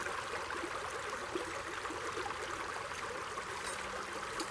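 Creek water flows in a steady, faint broadband rush and trickle, continuous and unbroken, with no voices.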